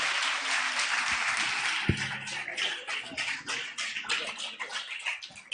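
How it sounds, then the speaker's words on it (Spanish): Moderate audience applause greeting four guests on stage at a creativity panel, a soft patter of many hands with a few louder individual claps, fading unevenly toward the end. "un fuerte aplauso para nuestros 4 invitados"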